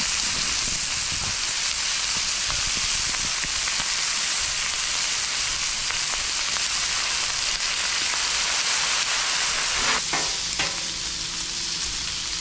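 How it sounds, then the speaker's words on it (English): Bacon sizzles on a Blackstone griddle for po' boys, a dense, steady hiss that fills the whole stretch, close and loud, with a few light utensil clicks near the end. "Listen to that sizzle."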